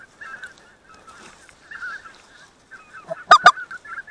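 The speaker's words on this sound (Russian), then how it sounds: "Смотри, сколько косяков идет, а, гуся, смотри." Flocks of white-fronted geese honking overhead during a goose hunt, a chorus of distant calls swelling into a loud close burst of honks near the end, while hunters talk quietly.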